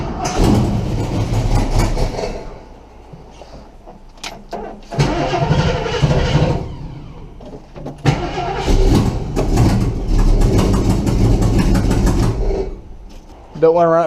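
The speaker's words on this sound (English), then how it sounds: "that clicking is that leak back there" A car engine with a leaking exhaust gasket at the header runs nearby in loud bursts, its rough idle carrying a rapid ticking from the leak, with quieter gaps between the revs.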